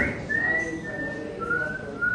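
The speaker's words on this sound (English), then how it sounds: "She whistles a tune she seems to know well" A girl whistles a familiar tune in a theatrical play, a clear melodic line of sustained and gliding notes close by, with a faint murmuring background underneath.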